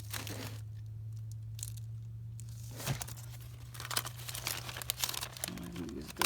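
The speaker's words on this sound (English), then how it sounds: "Here's my coffee dyed paper." Coffee-dyed paper being handled and crinkled in a craft room, a run of close, papery rustles and crackles with short louder crunches, under a steady low hum.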